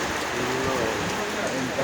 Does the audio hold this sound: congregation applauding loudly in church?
no